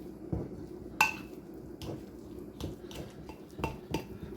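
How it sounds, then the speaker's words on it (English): Metal utensil clinking and scraping against a bowl while ingredients are stirred together for a skillet dinner, a few sharp clinks spaced out over steady low rustling, close and moderately loud. "Now we're gonna mix this together till it's well mixed."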